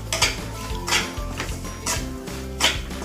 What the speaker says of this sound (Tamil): நல்லா வறுத்துக்கணும். ஒரு கப் ரவை போட்டு